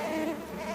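A swarm of yellow jackets from the TV series Wednesday makes a dense, steady buzzing drone. It is loud and close, holding without a break for under a second with no voices.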